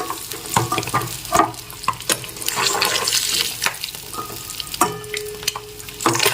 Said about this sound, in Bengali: ডিমগুলোকে ভেজে নিচ্ছি